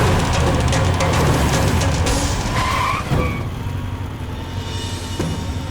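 A car skids during an action-movie chase with tires squealing, a loud burst of rumbling engine and scraping rubber with a sharp squeal rising midway, then fading into lighter road noise.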